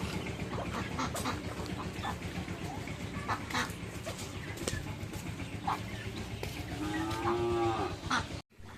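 Cattle on a farm mooing in long low calls over a busy background of birds, ducks and chickens, with the lowing swelling louder near the end.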